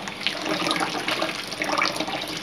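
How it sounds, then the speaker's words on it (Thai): Soaked sticky rice is swished and rinsed in water, a steady close sloshing and splashing with running-water texture throughout, with no speech. "เอาข้าวเหนียวที่เราแช่น้ํามาล้างน้ํานะครับล้างให้เรียบร้อย"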